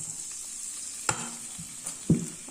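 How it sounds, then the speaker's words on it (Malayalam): Ginger garlic paste drops into hot oil for a Kerala-style neymeen (seer fish) mappas, giving a soft steady sizzle with a few brief stirring clinks and scrapes, close and without talk. "എണ്ണ നല്ല ചൂടായി കിടക്കുകയാണ് അപ്പോൾ നമ്മളതിന് ആദ്യം ഇടേണ്ടത് ഇഞ്ചി വെളുത്തുള്ളി പേസ്റ്റ്"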